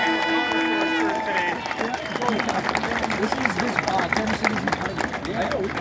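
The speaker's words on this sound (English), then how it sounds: "So round of applause for them" Applause and crowd noise from an outdoor gathering after an Indigenous smudging ceremony at sacred ground during a Rolling Thunder rally in Ottawa, steady clapping and babble throughout, with a brief tonal sound at the start.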